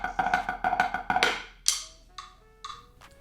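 Drums play a right-hand triplet with a left-hand diddle: quick clustered strokes in a rolling pattern, followed by a few sparser hits ringing out, close and fairly quiet.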